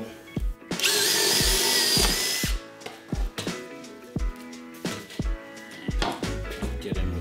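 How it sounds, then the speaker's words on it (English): A power drill bores a hole through a sheet metal pattern and wood in a loud two-second whining burst. Sharp knocks and clunks from handling the tool and workpiece follow. "Just drill a hole."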